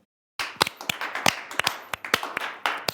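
A handful of people give a round of applause in a South African talk show studio, breaking out of silence into crisp, close, uneven claps that continue steadily without voices.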